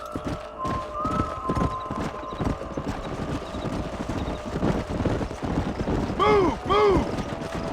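Horses in the Red Dead Redemption video game clip-clop along at a steady trot with creaking tack, and two sharp whinnies ring out near the end.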